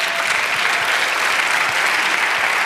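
A church congregation breaks into loud, continuous applause, a thick steady wash of clapping hands with no pauses.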